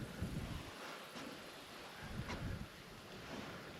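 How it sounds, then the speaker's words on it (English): Steady wind blows across a fishing dock by the water, a broad rushing noise with faint surf and gusty buffeting on the microphone, no voices. "Oh, it's nice to get some wind down here, though."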